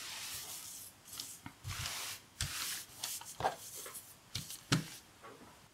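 Hands smoothing scrap fabric pieces flat on a foundation for a quilted heart drink coaster, soft intermittent rubbing and brushing strokes, close and fairly quiet, no talking.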